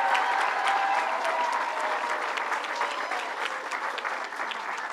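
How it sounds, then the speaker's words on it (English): An audience at a governor's public announcement applauds for a school principal, a sustained burst of clapping that starts full and slowly thins over about five seconds. "let's give her a round of applause."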